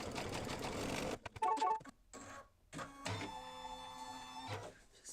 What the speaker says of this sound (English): I'm going to put my fabric right there in the center and stitch it